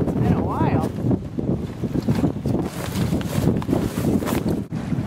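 A sailboat is under sail with one reef and the jib partly out. Steady wind buffets the microphone, and water washes and sloshes close by against the hull. A voice speaks over the noise for part of the stretch.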